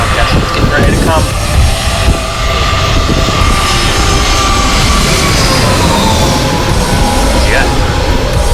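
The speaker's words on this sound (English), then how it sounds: "park, where a lot of the airplanes fly over" A jet airliner roars low overhead at Gravelly Point park as it comes in to land, a loud continuous engine rumble and whine filling the whole stretch.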